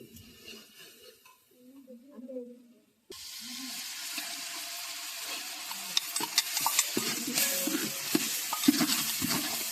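Ginger garlic paste sizzles in a pan over a wood fire for prawn biryani; a few seconds of quiet murmuring give way to loud, steady frying hiss with scraping stirs.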